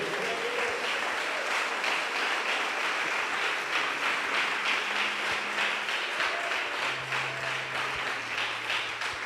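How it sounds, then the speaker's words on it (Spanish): A congregation in a church service breaks into sustained applause for the King of glory. The clapping stays dense and steady throughout, and a few low tonal sounds rise from the background toward the end. "Dale ese aplauso al Rey de gloria."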